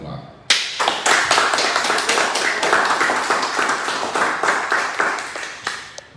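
A lecture audience claps for an archaeologist speaker at a conference, the applause beginning suddenly and continuing as a dense, fairly close patter of individual hand claps that slowly tapers off.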